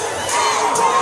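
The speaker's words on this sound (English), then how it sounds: "And y'all heard that scream?" A high school talent show audience screams and cheers loudly in a dense, sustained roar, with a couple of higher shrieks rising above it.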